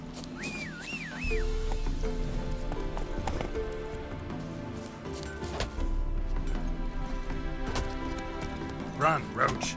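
Roach the horse gallops in The Witcher 3, with rhythmic hoofbeat clip-clop over a steady game ambience and music. A voice speaks briefly, and a whinny or whistle-like tone comes near the start.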